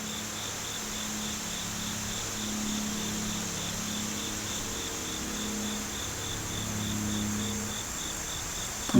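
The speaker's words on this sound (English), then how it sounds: "Hear the crickets?" Steady, continuous cricket chirping, a high pulsing trill that repeats evenly throughout, with faint low murmurs underneath and no talking.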